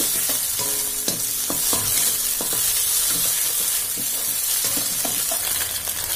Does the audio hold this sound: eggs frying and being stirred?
yes